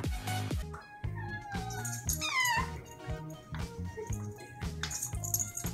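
Several cats meow and yowl in quick succession over whipped cream, with high wavering cries overlapping, close by and fairly loud, plus some small whimpering sounds.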